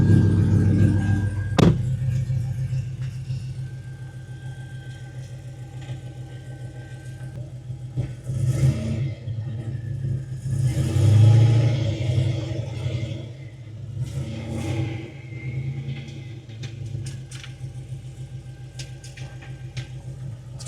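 Pontiac GTO project car driving, a steady low engine rumble heard from inside the car, with a few louder surges of revving and some clunks and knocks over about twenty seconds.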